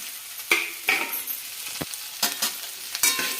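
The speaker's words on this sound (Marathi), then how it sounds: "आता भेंडी टाकून कढईमध्ये" Okra sizzles in a hot wok, with several sharp scraping stirs and bursts of crackling over a steady frying hiss; no one speaks.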